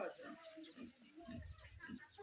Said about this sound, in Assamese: এইবিলাক মুৰ্গীৰ পোৱালি মুৰ্গীৰ পোৱালি